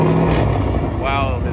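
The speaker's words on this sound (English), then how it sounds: "wow, his car is loud" Close by, a loud drift car engine revs and roars steadily at a drifting event pit area, with one brief rising rev partway through and a person talking over the noise.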